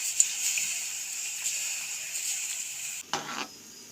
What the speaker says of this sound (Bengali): তেঁতুলটা খুব ভালোভাবে ফুটিয়ে নেব।